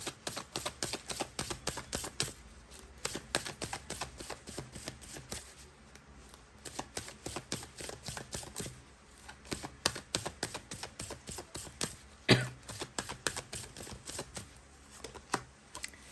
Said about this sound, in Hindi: आज इस डेक से मैं 2 कार्ड ले रही हूँ।